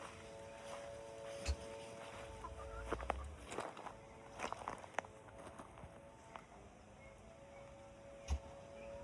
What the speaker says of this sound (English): Oh, there's a chicken up here in the garden.